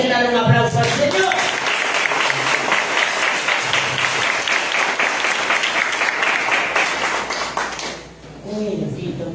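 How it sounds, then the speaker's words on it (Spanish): A church congregation breaks into sustained applause, a loud, dense wall of clapping that holds for several seconds before dipping, with a voice briefly heard at the start and end. "¿Cuántos quieren dar un aplauso al Señor?"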